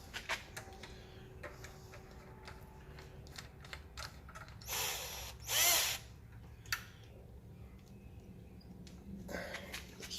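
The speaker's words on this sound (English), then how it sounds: "Take my drill." A power drill being set up on a workpiece held in a vise, with quiet clicks and handling noises around two short, loud whirring bursts near the middle of the stretch.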